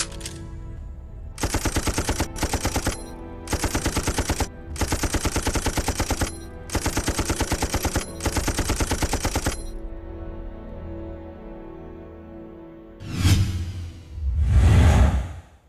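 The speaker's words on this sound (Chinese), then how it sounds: "机枪手，给我射击" Machine gun fire in a Chinese war film battle scene, several loud rapid bursts of automatic shots separated by short gaps, followed by a fading rumble and a couple of whooshing swells at the end, no speech.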